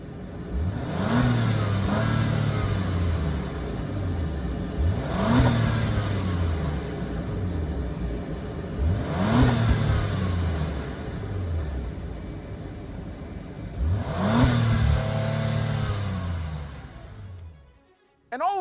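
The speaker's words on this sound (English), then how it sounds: "Now listen to that engine." A 2024 Acura MDX Type S engine repeatedly revved during a drag race lineup: four loud, rising bursts each climbing in pitch and dropping back, spaced several seconds apart, with steady idle between them.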